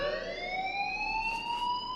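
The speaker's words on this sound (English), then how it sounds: "do you hear that fire alarm?" A fire alarm in the Life Is Strange game sounds a steady, loud, high electronic tone with rising pitch and rich harmonics, continuous throughout.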